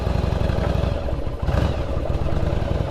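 A Yamaha Virago 1100cc motorcycle idles on a cold start, giving a loud, close, steady rumble with an uneven thumping rhythm and mechanical clatter throughout.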